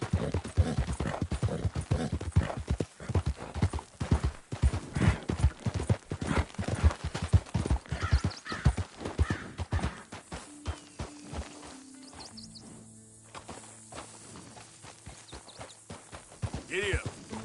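Horse hooves clip-clop steadily in a PS4 video game, a rhythmic walking beat over the first ten seconds that fades into quieter game sounds, with a voice speaking over it.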